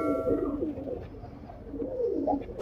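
A young Golalal (red-throated) pigeon gives soft, low cooing close by, quiet and continuous, ending with a brief sharp knock.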